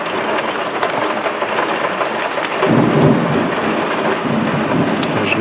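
Morning thunderstorm over Łowicz, with steady heavy rain hissing close by and a deep rumble of thunder swelling midway and rolling on to the end.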